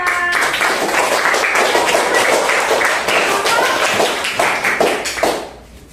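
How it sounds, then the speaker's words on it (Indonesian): Classroom applause for a student group in a lesson on zakat fitrah, a lively burst of many hands clapping with distinct claps poking through, holding steady before dying away near the end. "kasih tepuk tangan untuk kelompok Kak"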